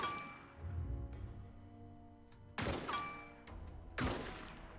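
Marines fire weapons in the turn-based sci-fi game Steam Marines: two sharp bursts of gunfire crack out with clinking, metallic tails over a low game-music hum, separated by a quieter stretch.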